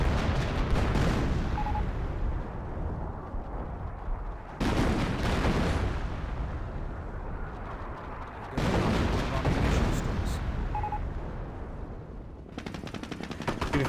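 Company of Heroes 25-pounder guns fire an artillery barrage. Heavy booming salvos hit in three loud waves, each followed by rumbling decay, with crackling gunfire layered on top.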